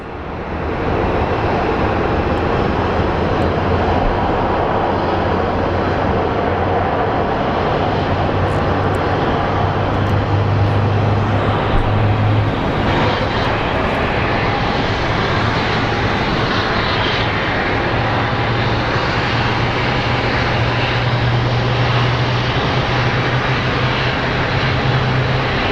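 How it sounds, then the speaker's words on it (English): An airliner pushes back at Phoenix Sky Harbor International Airport as its jet engines run with a loud, steady roar and hum, a constant drone that holds nearly unchanged throughout with a low tonal hum swelling partway through. "We have another pushback."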